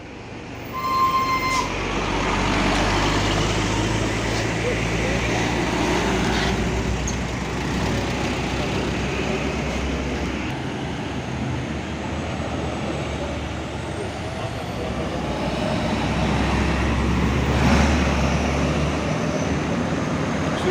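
Heavy trailer trucks roll past on a congested road where traffic is being directed, a loud steady engine roar and road rumble with brief air-brake hiss, several vehicles going by close one after another.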